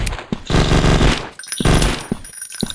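An MP machine gun fires in the zombie survival mode of the shooter game Strike Ops 3, with two loud, sustained rapid-fire bursts separated by a short pause, close and dominant.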